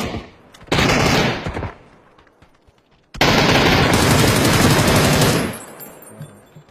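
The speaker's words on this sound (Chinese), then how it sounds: "打了我一枪" Video game gunfire rattles in two loud automatic bursts, a short one followed by a longer sustained volley, with quiet gaps between.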